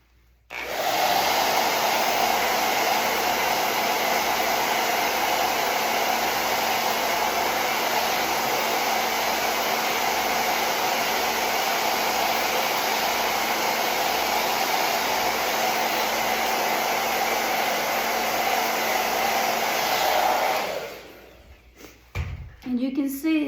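A hair dryer blows steadily and loudly on a handmade craft daisy for about twenty seconds, a constant close roar that then cuts off.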